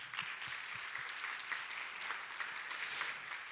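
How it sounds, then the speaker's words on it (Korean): A church congregation at a youth group's sending-off service for a short-term mission trip to Cambodia applauds after a skit, giving a steady, moderate wash of clapping that holds for several seconds with no talk over it. "우리 다시 한번 뜨거운 박수로 맞이해 줄까요?"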